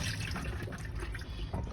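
Water pours and trickles steadily as the soaking water on chickpeas is changed, a continuous close splashing flow with no speech.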